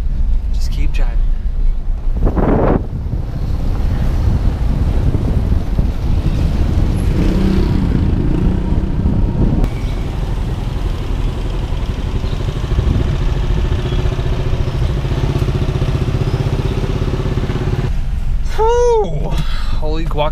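A car driving along roads in the Philippines, a loud steady rumble of engine and tyre noise from inside the vehicle, with a voice briefly audible and a couple of short tonal sounds near the end.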